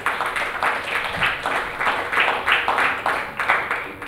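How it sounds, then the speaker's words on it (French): An audience at a short-film festival panel applauds the guests, a full, even round of clapping that swells and holds steady throughout. "que vous pouvez applaudir."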